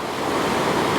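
Waves wash steadily onto a sandy beach on the Isle of Eigg as the tide comes in, a continuous, loud rushing surf with no voices.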